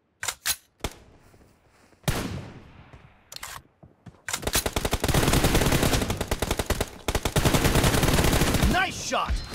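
Gunfire in the mobile shooter BGMI: a few sharp isolated shots at first, then a long, loud, continuous burst of rapid automatic fire close by.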